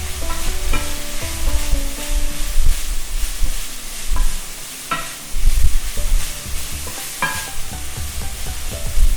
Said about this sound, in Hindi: पहले मैं इनको थोड़ा सा सौते कर लेता हूं।